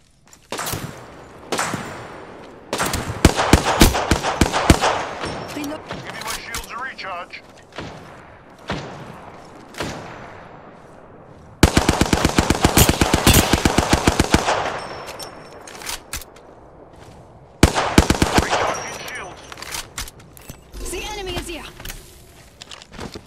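Rapid bursts of automatic gunfire in the battle-royale shooter Apex Legends, loud, close clusters of shots separated by quieter gaps with footsteps, while players talk over the action.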